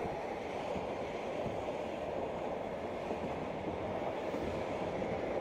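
The Orient Silk Road Express runs on rails across the Central Asian steppes, giving a continuous, even rumble and rushing roar of wheels on track, steady and moderately loud throughout with no voices.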